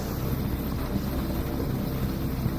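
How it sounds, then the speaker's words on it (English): Royal Navy EH-101 helicopter hovering above a warship's deck at sea, a steady, loud rotor and engine drone mixed with wind buffeting, continuous and with no voices. "helicopter hovering above the deck of a warship at sea. This British Royal Navy EH-101 is about to refuel without landing on the ship."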